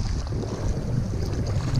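Wind gusting across the microphone on a shallow reef shore, with a low rumbling buffet and soft surf underneath, steady and fairly loud over a very short stretch.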